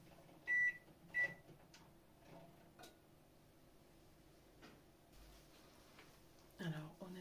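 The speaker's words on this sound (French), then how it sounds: "Et là on peut le mettre de 1 minute à 1 minute 15 au micro-ondes." Microwave oven heating a TikTok food-hack dough, with two short electronic beeps from the control panel near the start and a low steady running hum beneath, then a soft thump near the end.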